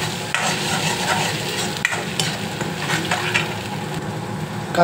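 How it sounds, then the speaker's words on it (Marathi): Ground onion frying with ginger and garlic for egg curry, a dense close sizzle broken by rhythmic scraping and stirring strokes in the pan, no talking. "कांदा तेवढा भाजा की थोडा लाल होईल"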